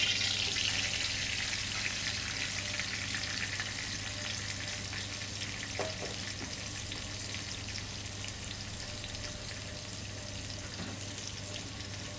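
Sliced onion and green pepper frying in ghee, a steady close sizzle and crackle with a few faint clicks over a constant low hum; no talking.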